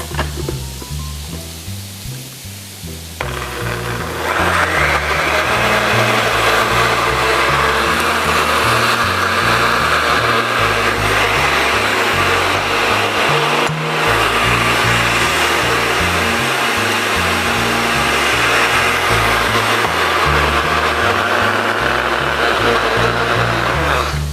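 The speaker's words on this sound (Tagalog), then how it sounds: "Everything into the blender" A blender whirs steadily at high speed blending satay sauce for over twenty seconds after a brief quieter start, a loud continuous motor drone with no talking.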